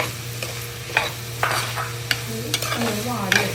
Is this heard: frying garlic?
yes